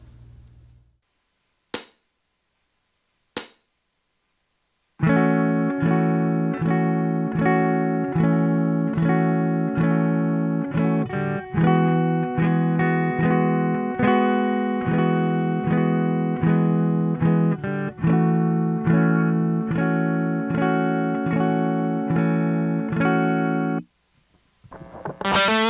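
Distorted electric guitar strums the chords of a song in a steady rhythm, loud and close, following two sharp clicks and a short silence, then stops briefly before a final chord.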